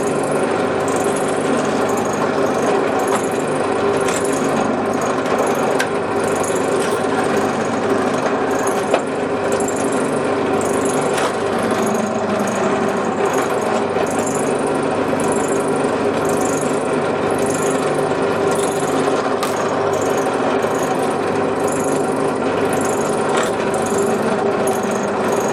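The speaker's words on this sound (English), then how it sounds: "we can just drill all the holes straight off." A power drill bores holes through a Kydex knife sheath clamped under a riveted template, a continuous loud whine that holds steady for the whole stretch with no pauses and no voices.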